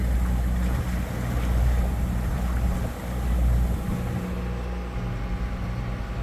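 A boat motors steadily along a channel on autopilot, giving a continuous low engine drone with wind and water rush on top that swells and eases a little. No one speaks.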